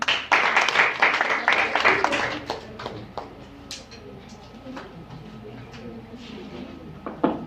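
An audience at a women's empowerment closing ceremony claps in a brief burst that quickly thins to a few scattered claps, with a few sharp isolated taps near the end.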